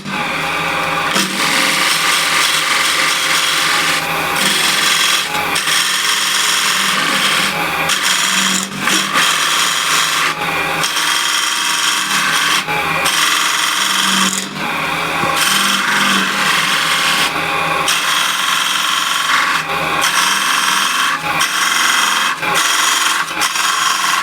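Apple wood spinning on a lathe under a refiner tool, giving a loud, continuous scraping rasp with a steady drone and frequent brief dips as the cut pauses and resumes.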